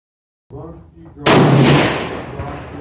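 A single loud, close rifle shot, fired prone from a bipod with a 7mm Remington Magnum or 6.5 Creedmoor hunting rifle, booms sharply after a quiet low rumble and rings out in a long decaying echo.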